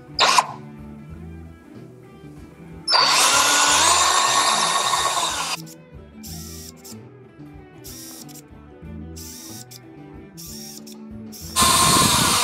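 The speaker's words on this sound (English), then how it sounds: "let's get to drilling." A power drill bores into an acrylic robot car platform in two long bursts, each with a loud, close whir, separated by quieter clicking and handling.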